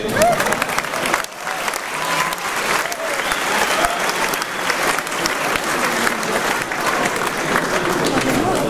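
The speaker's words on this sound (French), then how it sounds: "Vous pouvez l'applaudir." A crowd applauds the MEDEF president during a French presidential visit in San Francisco, sustained loud clapping from many hands, dense and continuous, with a brief dip near the start.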